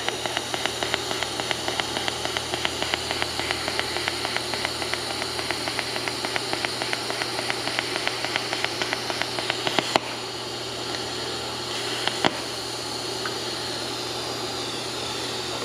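Shielding gas post flow hissing steadily from a titanium welding torch, a constant close hiss with a rapid regular ticking pulse that stops partway through, then a couple of faint clicks.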